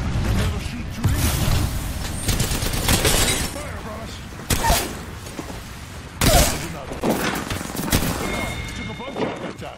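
Video game firefight with gunfire crackling and bursting in fast volleys, including a few sharp louder shots, while players talk excitedly over the shooting.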